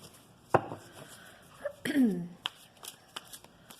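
Large tarot cards are shuffled close up in quick bursts of riffling and soft slaps, with faint talk in between.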